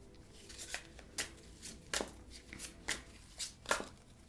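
Tarot cards shuffled by hand in a series of crisp, papery riffles and slaps, about eight distinct bursts in a loose, uneven rhythm, close and fairly quiet with no talking.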